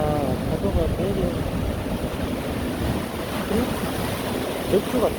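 Ocean waves breaking at the seaside, a continuous rushing wash mixed with wind noise across the microphone; faint voices come through underneath.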